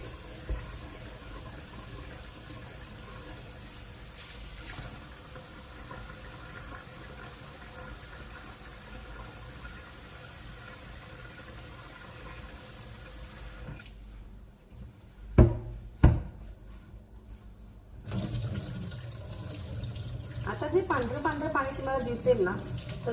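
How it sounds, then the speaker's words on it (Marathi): Water runs steadily into a vessel of soaking wheat grains being washed for traditional Khandeshi wheat chik, a continuous trickling wash with a few sharp knocks and splashes near the end. "आता परत एकदा याच्यामध्ये आपण पाणी टाकायचं आहे आणि त्याला पुन्हा एकदा धुवून घेऊया"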